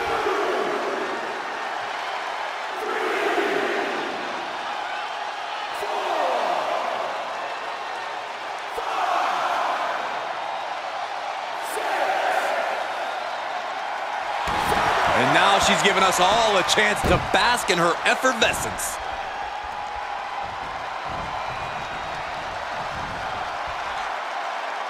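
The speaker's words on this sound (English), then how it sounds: "when you can't hear yourself think because the crowd's so loud" A loud arena crowd roars through a six-woman Hell in a Cell wrestling match, with a commentator talking over it. The noise swells in waves and peaks in a dense burst of cheering and thudding impacts.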